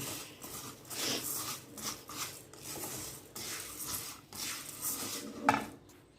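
Ingredients for sweet jaggery-and-lentil balls being slowly stirred and roasted in a pan on a low flame, with soft repeated scraping strokes of a spoon against metal and one sharper clink near the end, with no speech.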